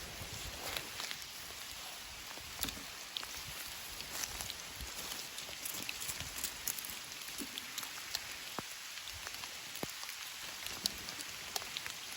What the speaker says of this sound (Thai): ฝนตกแรงมาก กระเป๋าเปียกเลยนะ